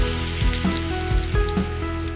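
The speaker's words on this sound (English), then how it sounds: "they go into the oil for 2 minutes on each side" Dunkin donuts fry in oil in a store kitchen, a steady close sizzle and bubbling with faint rhythmic mechanical thumps from equipment underneath.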